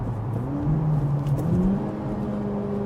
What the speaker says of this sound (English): Downshift rev matching does it for me.